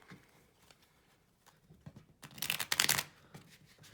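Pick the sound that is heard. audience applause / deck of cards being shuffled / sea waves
deck of cards being shuffled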